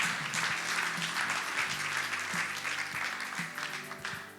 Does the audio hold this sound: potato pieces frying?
no